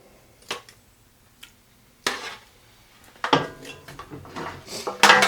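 Chicken pieces go into a pan for stewed chicken, several separate knocks and clatters of metal and utensils at irregular intervals, louder toward the end, with no voices.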